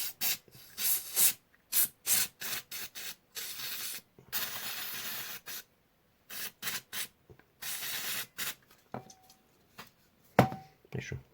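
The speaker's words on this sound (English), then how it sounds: "with the cleaner, and then we'll polish the wheel" A model locomotive's wheels are scrubbed with parts cleaner in a series of short, close rubbing and wiping bursts with brief pauses between them and no talk.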